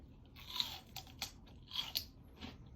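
Close, crisp crunching of celery dressed with mayonnaise, vinegar, sugar, salt, onion, garlic and cilantro: several loud bites and chewing crunches in a quick, uneven rhythm with no talking.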